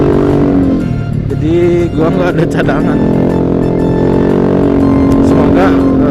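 Yamaha Aerox scooter exhaust droning steadily while riding on the road between Tangerang and Bogor, a loud continuous engine hum with shifting pitch beneath a rider talking close to the microphone.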